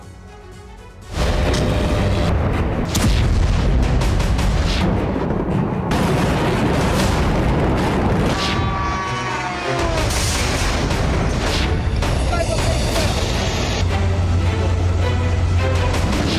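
Missile explosions in Russian cities: a sudden loud blast opens into a sustained roar of rumbling booms and crackling debris, dense and continuous, with no voices.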